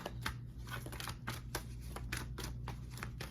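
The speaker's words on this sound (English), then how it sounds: "Just a quick shuffle." Quick shuffle of a deck of oracle cards during a Scorpio tarot-style reading, a rapid run of soft papery riffles and flicks repeating in close bursts, near and fairly steady, with no talking.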